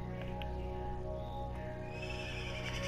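A horse neighs and whinnies in Minecraft, a steady game tone running underneath, with a faint clip-clop of hooves alongside.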